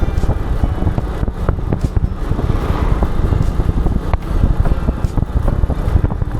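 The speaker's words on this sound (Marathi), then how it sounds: "रिक्षाची वाहतूक सुरू आहे फोर व्हीलरची वाहतूक देखील सुरू आहे" Highway traffic of rickshaws and four-wheelers on the Samruddhi Mahamarg expressway near a toll plaza, a dense continuous roar of passing engines with wind buffeting the microphone.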